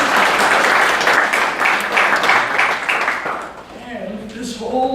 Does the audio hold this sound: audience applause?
yes